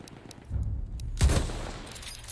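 Gunfire in Battlefield 1 on Xbox One X: a muffled low rumble followed by a sharper, louder shot or blast about midway, then a lingering decaying tail.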